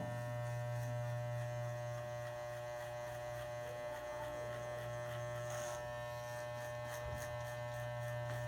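Electric hair clipper buzzing steadily while cutting hair for a low fade at a barbershop, a continuous close hum with slight shifts in pitch as the blade moves across the head.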